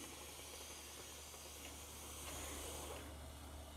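Steam hisses steadily out of an autoclave valve as air is purged for sterilization, a loud continuous broadband rush with no voices.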